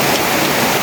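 Heavy rain pours down in a thick, unbroken hiss, loud and close, as a steady downpour drums on surfaces with no voices or other sounds over it.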